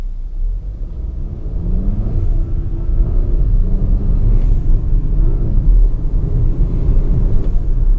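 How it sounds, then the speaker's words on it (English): Interior of a turbocharged 2018 Volvo XC40 R-Design accelerating with the windows up: a steady low engine rumble with rising tonal whine, continuous and moderately loud, no talking. "you can really hear that turbo"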